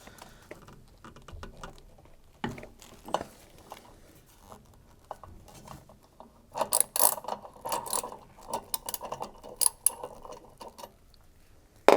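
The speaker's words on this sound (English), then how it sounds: "So what you need to do is to turn the nut, but whilst you're doing that, also hold on to the rotor and motor at the same time" A wrench works the rotor nut on an LG direct-drive washing machine motor, giving close, sparse metallic clicks that build into a denser ratcheting patter and a few sharper clanks, with no speech.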